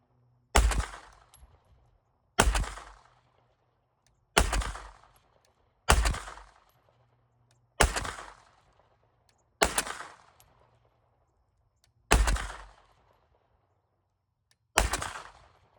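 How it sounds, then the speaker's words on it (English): Eight loud, sharp 9mm handgun shots fired one at a time at irregular intervals of about two seconds, each a crisp crack with a short echoing tail, no talking in between. "I'm gonna shoot some rounds with this one too"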